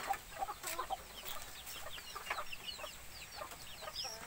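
Chickens cluck at a backyard coop at feeding time in the morning, a busy chorus of short overlapping calls with some scratchy movement, moderately faint and steady throughout.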